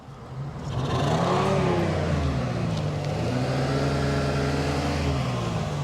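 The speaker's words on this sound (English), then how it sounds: "rev the engine for me." A 1988 Lincoln Town Car limousine engine revs up steadily and holds a loud, rising roar, with the pitch swelling and dipping as the throttle is worked, no talking.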